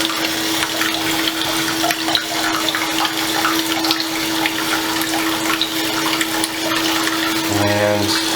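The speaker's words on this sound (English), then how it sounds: "We'll turn the water on." Tap water runs steadily onto a coin-cleaning carousel, a continuous close hiss and splash with a steady hum underneath, ending in a brief tonal burst.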